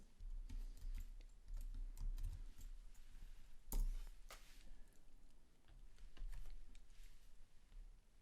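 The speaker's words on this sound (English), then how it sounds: "So let's type in a fill here." Keys on a computer keyboard are tapped in quick, light clicks scattered over a low hum, close and fairly quiet, with one sharper clack near the middle and no voices.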